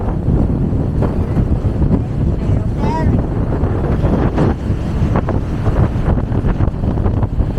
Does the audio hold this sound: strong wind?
yes